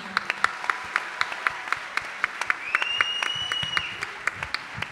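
Audience applause for a young male contestant at a talent show evening in Rognac, steady close clapping with sharp individual claps standing out, a sustained whistle rising briefly in the middle.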